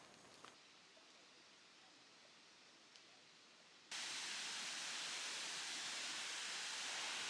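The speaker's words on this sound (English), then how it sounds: "We've got a waterfall just over here with a big canyon." A waterfall in a big canyon near Labuan Bajo on Flores suddenly becomes a loud, steady rushing roar partway through, after a quieter stretch of faint outdoor ambience.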